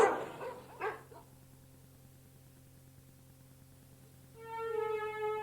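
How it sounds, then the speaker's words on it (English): A comedy answering machine recording with dogs barking: a couple of loud barks at the start over a steady electronic hum, then quiet, then a repeated high beep tone at the end. "there are over 47 different kinds of dogs just biting me in my mail bag"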